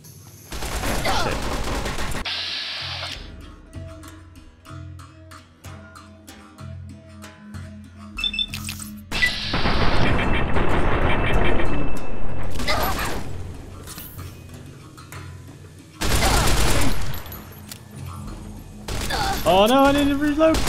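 Bursts of rapid gunfire in Fallout: New Vegas come in several loud clusters separated by quieter stretches, with mechanical clicks between them and a voice talking over parts.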